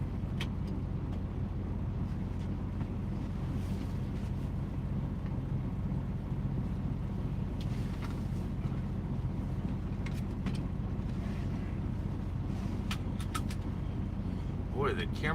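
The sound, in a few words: car driving on a road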